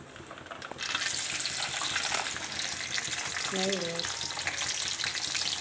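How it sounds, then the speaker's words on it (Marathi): Cumin and mustard seeds frying in hot oil in a kadai, a steady close sizzle that starts abruptly about a second in and holds without letting up, with a brief tonal sound partway through. "छान तापलेलं आहे जिरा टाकलं छान मोहरी जिरं टाकूया"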